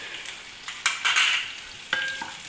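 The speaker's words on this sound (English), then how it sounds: "we'll fry it till it becomes golden brown" Caribbean fried rice frying in a pan, a moderate sizzle broken by several scraping stirs and clinks of a utensil against the pan, with short pauses between strokes.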